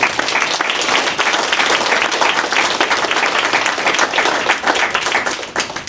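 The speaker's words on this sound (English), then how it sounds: "So let's have one more round of applause." At a school board workshop meeting, an audience gives students one more round of applause, a full, steady crowd clapping that stays strong for several seconds before starting to thin near the end.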